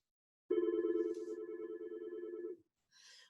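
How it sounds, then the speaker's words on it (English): A telephone ringtone trills steadily for about two seconds in the background of an online small-business presentation, then a shorter burst follows after a brief pause; no talking over it. "Sorry, my phone is ringing in the background."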